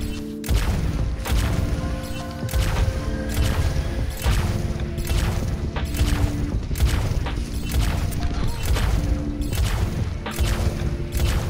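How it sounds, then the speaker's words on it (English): Rocket explosions from Overwatch 2, booming and crashing in rapid succession over steady game music and effects, a dense run of loud blasts filling the whole stretch. "I want to hit her with a rocket."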